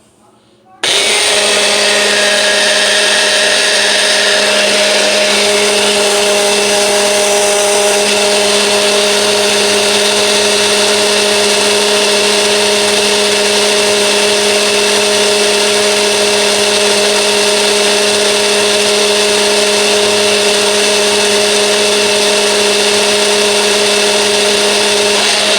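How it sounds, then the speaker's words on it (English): A standard smoothie blender whirs steadily as it blends sunflower oil into homemade mayonnaise, starting abruptly after a brief quiet moment and then running loud and constant with a high motor whine. "this is just a standard regular smoothie blender"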